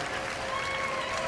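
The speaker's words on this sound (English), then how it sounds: "Give Zach a big round of applause." Brief burst of audience applause for a cruise activities manager named Zach at a belly flop contest, steady crowd clapping at moderate distance with some background voices.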